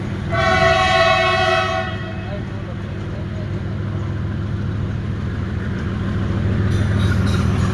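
A train rolls through a closed railway level crossing, opening with a loud horn blast before settling into a steady, close, continuous rumble of wheels and cars.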